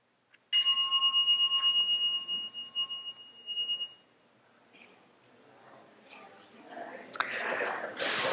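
A mindfulness bell is struck once during a group meditation session, giving a clear ringing tone that fades slowly over a few seconds, followed by quiet murmuring voices.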